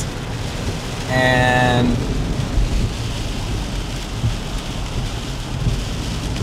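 A coastal storm brings heavy rain and strong offshore winds of 50 to 60 knots, with a loud, steady roar of wind and rain throughout. A brief voice cuts in near the start.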